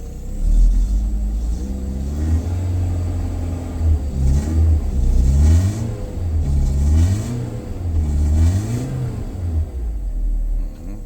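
A BMW E36 with the M43 engine, hard to start, idles with a low rumble and then revs up and down repeatedly in uneven surges. Each climb stumbles and stutters before dropping back, loud and close.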